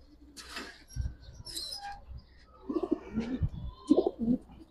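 Giribaz pigeons cooing at a bird market in Old Dhaka, several soft low coos in short bursts, close and fairly quiet, with a few higher chirps and rustles between them.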